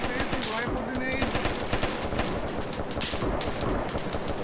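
Rapid automatic gunfire and bursts of shots from a military video game battle, dense and continuous throughout, with voices chattering underneath the fusillade.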